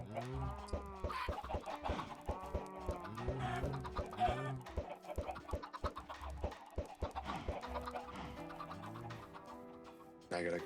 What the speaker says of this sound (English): There's freaking chickens everywhere!